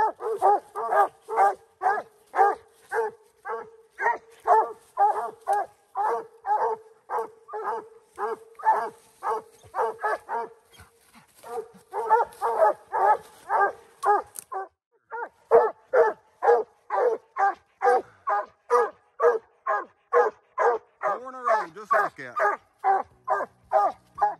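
Raccoon hounds bay in steady, rapid rhythmic barking at a treed raccoon in night woods, the chop of barks continuing almost unbroken at moderate distance with brief pauses.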